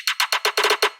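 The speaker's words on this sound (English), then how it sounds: "There is also this snare fill going into the bass house part." Snare fill from a dubstep track, seven sharp hits in a quick accelerating roll leading into a bass house section, loud and up front with no voices.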